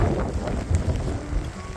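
Rain and sleet driven by wind on John Gardner Pass in Patagonia, Chile, a brief, loud, dense hiss of precipitation with low gusty rumble and no voices.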